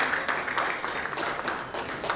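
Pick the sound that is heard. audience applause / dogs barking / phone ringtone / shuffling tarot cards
audience applause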